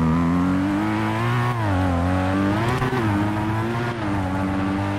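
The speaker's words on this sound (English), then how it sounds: "Listen to the blow-off valve on" A car engine in a GTA video game revs hard and steadily close up, its pitch swelling and dipping between throttle blips, with the blow-off valve hissing in between.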